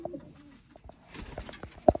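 Sialkoti Master Abdullah pearl-eyed pigeons coo in a loft, soft low calls scattered among wing flutters and shuffling, with a louder close coo near the end.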